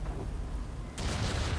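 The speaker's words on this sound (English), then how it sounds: "Why is there so many explosions?" A sudden loud explosive roar from the video game Watch Dogs: Legion breaks in partway through and holds as a sustained rumbling blast over a steady noisy background.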